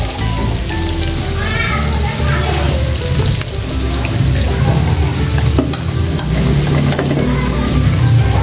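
Onions frying in butter for a creamy carbonara, a loud, steady sizzle that fills the whole stretch, with faint stirring and scraping in the pan.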